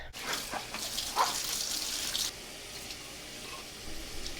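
Tap water running in a bathroom sink while blender parts are washed, a steady splashing gush that is stronger in the first half, then settles into a quieter flow.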